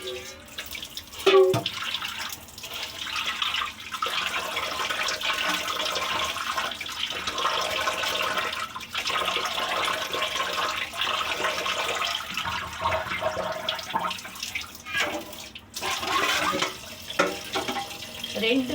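Tap water running continuously while fish is rinsed clean, a steady close splashing stream with a few knocks and clatters, and a person speaking briefly over it.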